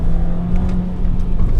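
A Volkswagen GTI with about 200,000 miles and a worn turbo rises in pitch as it accelerates after shifting into second gear, a loud, close, continuous roar with a steady low hum beneath it.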